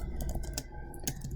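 Short burst of keyboard typing, a handful of quick keystroke clicks with a brief pause between two clusters, close and fairly quiet with no talking.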